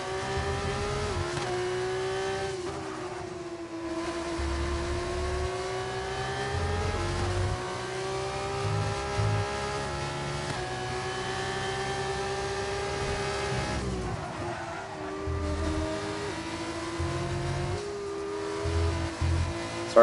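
F2 race cars roaring around the Qatar circuit in a racing video game, engines droning at high revs with pitch sweeps as cars shift and accelerate, one car closing and overtaking, continuous and loud throughout.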